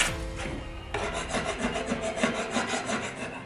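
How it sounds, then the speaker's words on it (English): A sanding block with 100 grit sandpaper rubbed by hand over a wooden kitchen cabinet during a remodel, giving close, steady rasping strokes in a quick back-and-forth rhythm. "so I just got a sanding block and 100 grit"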